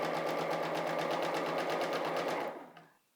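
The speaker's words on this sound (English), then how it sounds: "as long as it's a nice 1/4 inch seam allowance" A sewing machine stitches a quarter-inch seam while piecing a crazy quilt, a steady rapid mechanical whir with even pulsing that runs for about two and a half seconds, then winds down and stops, close up with no speech.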